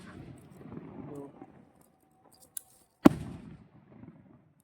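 Firecrackers burst at night in a village, with one sharp, loud crack standing out after a smaller pop, while someone talks quietly before it and faint voices follow.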